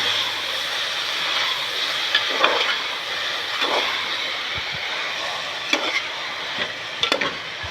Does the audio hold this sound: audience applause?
no